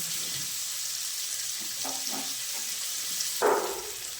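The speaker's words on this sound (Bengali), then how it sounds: "শুধু একটু নরম হওয়া অবধি কড়াইতে নাড়বো" Chopped onion frying in a kadai (wok) over a steady, close sizzling hiss, stirred gently until soft, with a short scrape of the spatula near the end.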